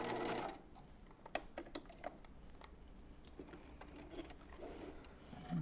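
A sewing machine back stitches on a skirt seam, giving quiet, uneven mechanical clicks and short ratcheting bursts close by over a faint hum.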